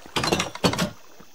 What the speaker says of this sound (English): Stupid iron doors.